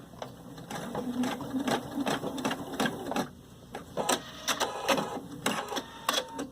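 Sewing machine stitching around a sleeve armhole in short bursts of rapid needle clatter, separated by brief pauses, close and fairly loud, no talking.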